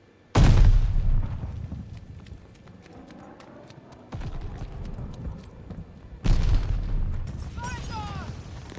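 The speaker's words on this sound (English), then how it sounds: "Tossing a sticky bomb." A sticky bomb goes off in the Call of Duty Vanguard video game, a heavy close blast followed by two more booming hits amid ongoing battle noise, with clattering and faint chatter under the explosions.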